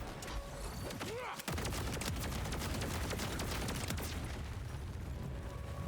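Rapid automatic gunfire in the video game Borderlands 4 rattles almost without pause after a short whooshing effect, a dense, loud burst of shots that carries on to the end.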